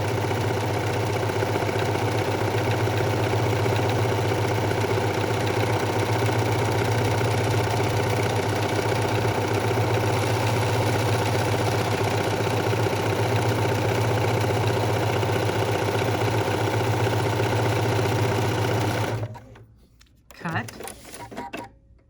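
A sewing machine stitching an ornament pattern, a loud, steady mechanical hum with fast repetitive stitching that runs for about nineteen seconds before it stops, followed by a few brief handling noises.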